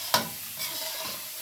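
A brief stir of yellow rice with pigeon peas in a pot, one spoon knock followed by a soft scraping swish over a faint simmer.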